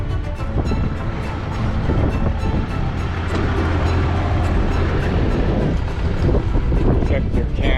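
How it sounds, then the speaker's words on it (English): Strong wind at Lake McConaughy in Nebraska buffets the microphone with a loud continuous rumble and roar, and people talk underneath it. "It's windy already."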